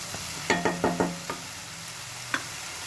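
Onion and chilli fry in oil while a spoon stirs them, giving a handful of quick scraping knocks over a faint, steady sizzle.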